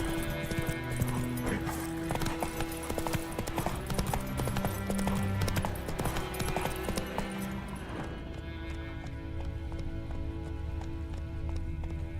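Horse hooves in The Witcher 3 game, rapid rhythmic clip-clop of a running horse over a music score, fading to quieter ambience near the end, with a brief murmur of voice.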